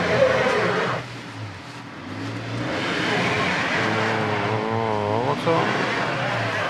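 A BAW 212 SUV drives along in four-wheel drive, its engine a steady low drone running the whole time beneath continuous close talk.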